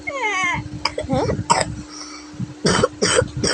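A person, apparently a child, gives several sharp close coughs in short bursts, with whimpering voice sounds in between.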